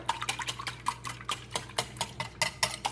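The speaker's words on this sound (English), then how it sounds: "so now I'm gonna whisk it more" Rapid whisking of a French toast egg mixture in a bowl, a quick run of light clicking, tapping strokes close by, about three or four beats per second, with no talking.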